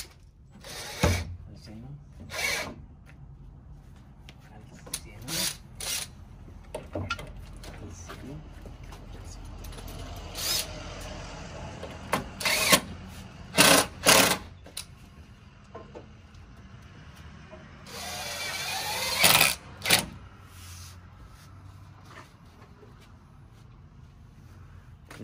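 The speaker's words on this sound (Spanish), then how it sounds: "Ya están clavando las maderas. Se están usando ese tipo de tornillos de acero inoxidable en una línea recta." Power drill driving stainless steel screws into wood boards for a modern patio door of steel and wood, in short separate bursts of whirring across the span, fairly close, with quiet gaps between them and faint background sounds.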